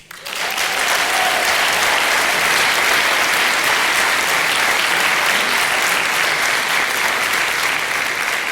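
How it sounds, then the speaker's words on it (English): A crowd claps steadily and loudly, sustained applause that starts abruptly and continues evenly to the end. "deserve a round of applause"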